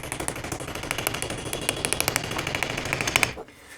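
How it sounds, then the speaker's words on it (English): Metal hammer tapping a U-joint into the axle of a Jeep TJ, a fast run of sharp close metallic strikes in steady rhythm that stops abruptly near the end. "And now I'll kind of keep an eye here as I'm hammering."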